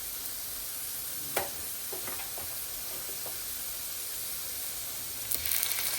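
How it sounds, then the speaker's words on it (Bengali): Ground spice paste hits onion and garlic frying in oil for a chewa fish bhuna, making a steady, fairly quiet hiss of sizzling with a couple of brief spatters and utensil clicks. "পেঁয়াজ রসুন ভাজা হয়ে গিয়েছে, এখন বাটা মশলা দিয়ে দিব।"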